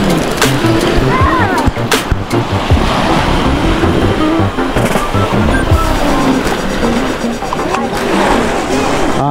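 Ocean waves wash and churn loudly all around, mixed with wind buffeting the microphone, while people talk over the water noise.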